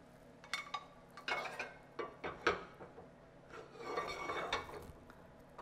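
A Sriracha fried egg omelette is eased out of the pan onto a plate, with quiet scraping, utensil clinks and dish knocks in a handful of short, close bursts.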